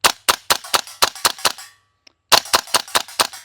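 A Classic Army URGI MK16 gas blowback airsoft rifle fires in semi-auto, about eight sharp, snappy shots in a steady rhythm, a brief pause with one tiny click, then another run of roughly seven shots, close and loud.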